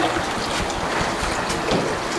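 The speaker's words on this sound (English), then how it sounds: "currently I'm running this water feature" Garden water feature running outdoors, a steady broadband wash of splashing water with some wind-like rumble, continuous and fairly close, no voices.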